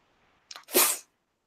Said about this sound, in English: No, that was a cat sneeze.